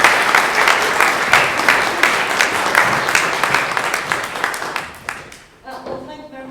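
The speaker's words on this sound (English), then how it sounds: "Big round of applause, please, for Angela." Lecture audience applauding a speaker at a memorial lecture, dense loud clapping that carries on for several seconds, then fades out into a single voice talking.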